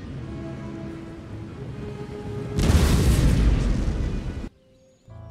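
Naval cannons fire during an Empire: Total War sea battle, a heavy booming volley erupting over steady rumbling background noise and then cutting off abruptly into near quiet.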